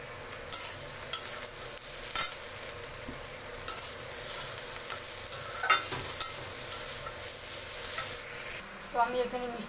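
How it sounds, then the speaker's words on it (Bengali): Potato and eggplant frying in a pan as turmeric and salt go in, with steady sizzling and repeated scraping stirs of a spoon, close and without speech. "আলু বেগুনটা ভাজা ভাজা হয়ে গেছে, এর মধ্যে এবার আমি হলুদ আর নুন দিয়ে দিচ্ছি"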